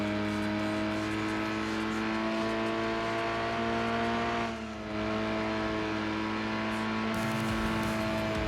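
A racing car engine in Gran Turismo 2, droning loudly at full volume with a steady sustained tone and brief dips in pitch as it shifts, continuous throughout.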